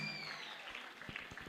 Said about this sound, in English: Keep clapping for them until they make their way upstage.